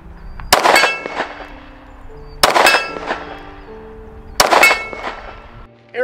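A Smith & Wesson M&P 10mm pistol fires three evenly spaced shots at a steel target on an outdoor range. Each loud crack is followed by a ringing metallic clang and echo.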